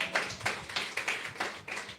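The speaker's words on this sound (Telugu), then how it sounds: "గట్టిగా చప్పట్లు కొడదామా?" A group at a Bible lesson claps in a quick, even rhythm, about eight crisp claps in two seconds, fairly soft and slightly distant, with no talking.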